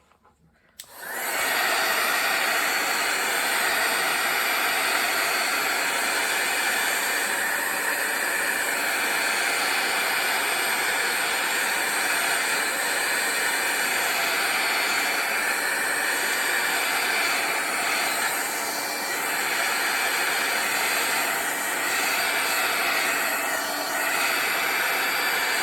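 A heat tool switches on and blows a steady, loud, breathy roar while drying a mixed media papercraft card. The hiss holds constant and close for a long stretch, with slight wavering as the tool moves.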